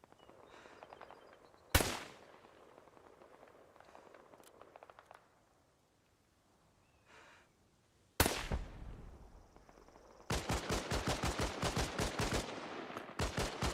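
Gunfire in the military video game Arma Reforger: a sharp early shot, then a loud single blast, followed by a rapid, steady burst of automatic fire that pauses briefly and resumes, close and loud over quiet ambience.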